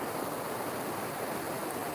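Steady broadband rush of a waterfall and flowing river water at a fossil-hunting spot, continuous and fairly even throughout with no voices.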